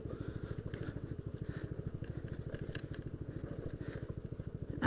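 A Yamaha Aerox scooter's engine chugs in a fast, even pulse during off-road riding, close and fairly quiet, with a sharp bump or clatter right at the end.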